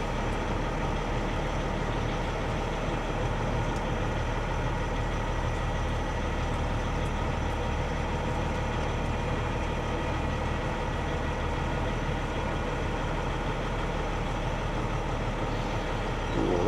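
Low, continuous rumble of a truck engine idling while hauling an oversize load on a cross-country trip, a steady droning hum with no breaks or voices.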